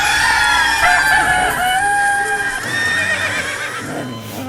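A rooster gives a loud, close crow lasting several seconds, a long strained call that rises and then trails off, with no talk over it.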